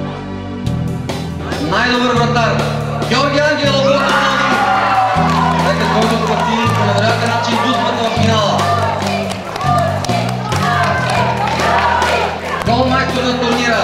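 A crowd at a youth football tournament grand final awards ceremony cheers and claps under loud music while an announcer speaks over the steady roar.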